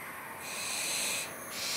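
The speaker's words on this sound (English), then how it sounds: "help sustain the population of barn owls in Wales" Barn owl chicks in a nest in darkness in Wales give a steady, breathy hissing screech that swells and fades across the short stretch, close and alone with no talk.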